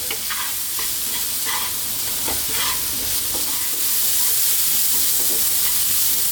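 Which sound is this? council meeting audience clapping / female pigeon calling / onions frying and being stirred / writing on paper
onions frying and being stirred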